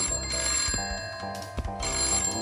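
A telephone rings in Christmas Shopper Simulator with a steady, repeating electronic tone at moderate volume, with no voices.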